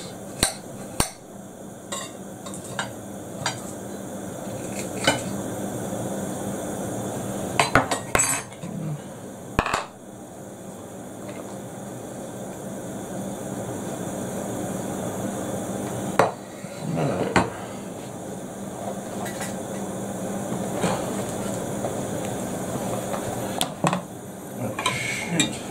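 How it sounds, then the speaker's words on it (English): A knife run repeatedly through a head of lettuce for a wood pigeon wrap, giving sharp crisp clicks and crunchy cuts in uneven bursts close by, with some cutlery-like taps against a board. "I'm just gonna run my knife through the lettuce"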